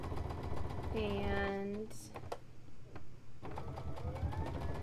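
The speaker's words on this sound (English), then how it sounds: "Now we're just going to sew down those seams." A sewing machine stitches down the seams joining the top and middle rows of a Shoo Fly Star quilt block, its steady motor hum running under a short spoken word and some brief higher clatter.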